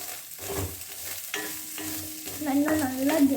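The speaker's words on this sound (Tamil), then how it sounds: "நல்லா கம்ப்ளீட்டாக ஆட் பண்ணிவிட்டு அதை நல்லா நம்ம கலக்கணும்." Egg sandwich stuffing being stirred in a pan, with repeated scraping strokes and a soft sizzle of frying beneath, close and fairly steady, growing a little louder toward the end.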